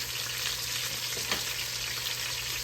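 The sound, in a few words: vegetables searing in the pot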